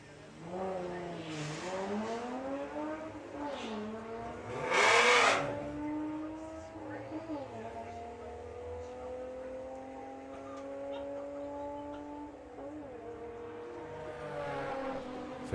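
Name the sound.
VW drag racing car making a run at Santa Pod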